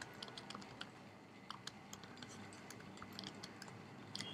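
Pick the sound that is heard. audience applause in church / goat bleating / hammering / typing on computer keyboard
typing on computer keyboard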